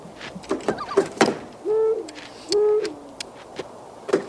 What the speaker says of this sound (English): It was just an owl.